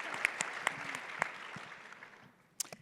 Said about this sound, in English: A round of applause for Linda on this first year as CEO.